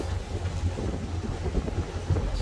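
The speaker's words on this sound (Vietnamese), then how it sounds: "Gió mạnh thôi à, chứ mưa không có lớn." Strong wind gusts buffet the microphone on a river barge in light rain, a constant low rumbling roar with irregular bursts, no voices.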